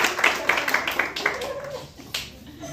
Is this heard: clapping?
yes